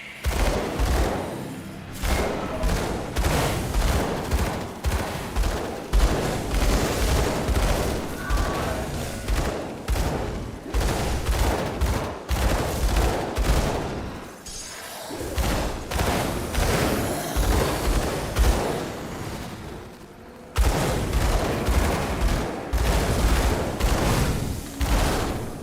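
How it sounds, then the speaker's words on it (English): Dual-pistol gunfire in the action RPG Grim Dawn, with dense rapid volleys of shots and thumping impacts running almost nonstop, loud and close, broken by a couple of short lulls. "You can shoot me through the wall, but I can't shoot you through the wall."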